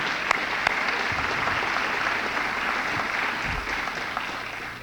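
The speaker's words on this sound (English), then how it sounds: "Let's give them a round of applause as well" At a high school Top 20 student recognition event, an audience applauds the parents, grandparents and siblings with sustained, even clapping from a large crowd, a few sharp claps near the start, fading slightly toward the end.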